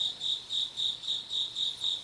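A cricket chirps steadily at about five in the morning, its regular shrill pulses repeating close and clear with nothing else heard.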